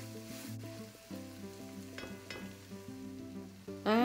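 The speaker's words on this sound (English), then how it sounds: "Stirring well, you can cook them until the tomatoes become mushy." Chopped tomato fries and is stirred in a pan, a soft sizzle under steady tonal music, with a louder scrape or hiss at the end.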